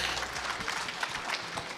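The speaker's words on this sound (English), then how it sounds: "Let's give him another big round of applause" Audience applause at a national ICT summit, a steady wash of many hands clapping that holds evenly for a couple of seconds without pause.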